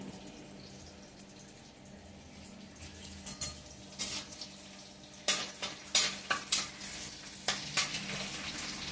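Puri frying in hot oil, with a steady low sizzle under repeated sharp bursts of spattering as dough is slipped in and stirred, fairly close.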